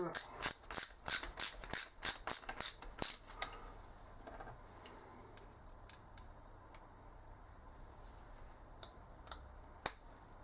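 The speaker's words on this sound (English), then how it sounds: "So then you screw in the screws. Use this ratchet driver." A ratchet driver tightening screws while assembling an external filament buffer for a 3D printer: rapid clicking bursts of the pawl, close and crisp, then sparser single clicks after a pause.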